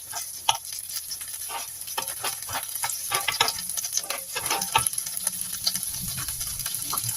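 Kaiserschmarrn batter sizzles and crackles in a hot buttered pan, with irregular popping and a constant soft hiss, close up and without talking.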